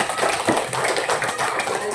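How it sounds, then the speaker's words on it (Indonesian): A classroom of schoolchildren applauding together at the end of a lesson, a dense burst of many hands clapping at once for about two seconds, fairly loud and close. "tepuk tangan untuk kita semua"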